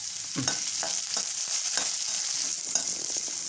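Sliced okra with green chillies sautés in a pan for a kerala kichadi, a steady close sizzle broken by a few light scraping stirs of a spoon, no voices.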